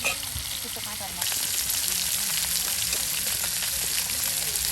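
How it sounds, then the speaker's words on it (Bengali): Many fish fry together in hot oil for a village-style meal cooked by a Bede family, giving a loud, continuous crackling sizzle that intensifies after the first second, with talk faintly mixed in. "দেখুন কত মাছ একসাথে ভেজে ভেজে নেওয়া হচ্ছে"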